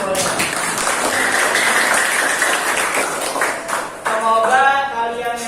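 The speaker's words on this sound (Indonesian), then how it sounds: "Tepuk tangan boleh." A school class of students claps together in a classroom, a steady burst of applause lasting about four seconds before a voice and other sounds take over.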